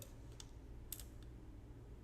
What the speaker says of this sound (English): I'm just typing the word test